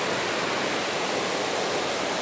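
Thác Mây waterfall in Thanh Hoá, Vietnam: a continuous, even rush of falling water, broad and hissing, close and steady with no voices.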